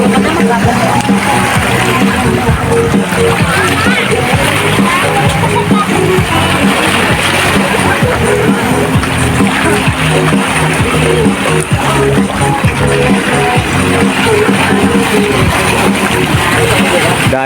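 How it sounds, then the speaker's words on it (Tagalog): Strong sea waves splash and slosh steadily around a boat off Patongan beach in Maragondon, Cavite, a loud, constant wash of water with no break. "Lakas ng alon."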